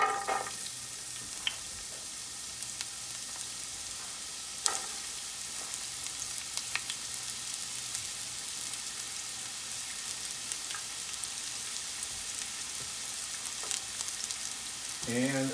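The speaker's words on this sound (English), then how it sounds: "you're probably going to hear these sizzles as soon as I drop them in" Sliced onions sizzle steadily in hot olive oil in a pan, a continuous close frying hiss for the whole stretch with a few louder crackles and stirring scrapes.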